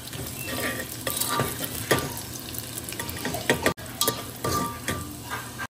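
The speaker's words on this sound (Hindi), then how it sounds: "अभी मैं पहले तड़का लगा देती हूँ।" Spices sizzle and crackle steadily in hot oil as a tempering for pulao, with occasional stirring scrapes, close and loud with no talking.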